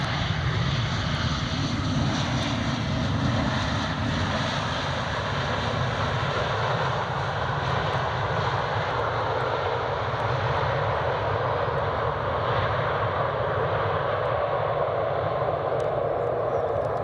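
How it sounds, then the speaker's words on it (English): An Embraer jet at Edinburgh Airport makes a continuous, loud engine roar with a broad rumbling hum, steady throughout the whole stretch and heard without any voices. "Nice job there by the Embraer."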